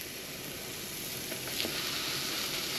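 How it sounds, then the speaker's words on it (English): Burger patties sizzle on a hot grill in a steady, dense hiss that holds close and fairly loud throughout, with no talking. "we're gonna throw our patties on here and get started here"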